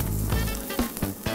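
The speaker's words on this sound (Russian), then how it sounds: "И обжариваем их до золотистого колера." Potato pancakes (draniki) fry in a pan of oil with a steady, close sizzle that fills the whole short stretch, crackling a little louder near the middle and the end.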